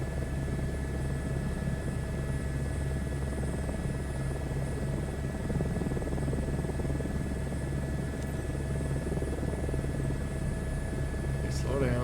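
Helicopter hovering in Microsoft Flight Simulator, a steady loud rotor and turbine drone with a high whine, continuous for the whole stretch, while a person talks over it.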